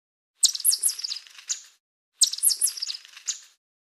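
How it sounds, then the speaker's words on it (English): A chipmunk chirps in two quick bursts of high, rapid, bird-like calls with a short pause between them, clear and fairly close with no other sound. "Chipmunk."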